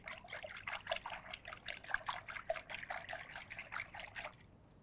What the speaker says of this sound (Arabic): الطبق هذا بحط فيه مي وبحط فيه كمية من الملح